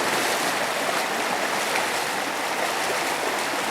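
A wilderness river rushes steadily during a backpacking crossing in rain and snow, a loud continuous wash of flowing water with no break or voices.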